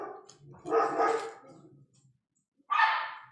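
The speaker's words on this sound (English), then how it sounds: "Now I gotta take a little break here because my dogs are going crazy" Dogs indoors bark in short, loud bursts, a cluster of barks followed by a brief pause and then another sharp bark close by.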